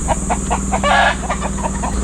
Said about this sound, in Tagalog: May mga alagang manok dito.